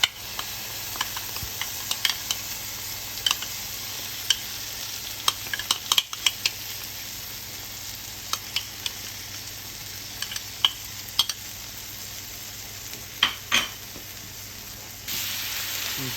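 Garlic, butter and a homemade red sauce cook in a pan under a low continuous sizzle, broken by scattered sharp clicks and taps as a utensil stirs them, close and quiet, with no voices.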